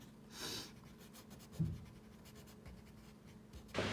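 Woodless colored pencils drawn across paper, soft scratchy strokes with a couple of louder swishes at the start and end, close and quiet with no speech.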